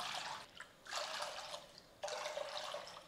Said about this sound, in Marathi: यामध्ये घ्यायचं आहे 5 कप पाणी